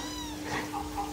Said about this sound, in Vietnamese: Rồi xong mà mèo nhiều vậy.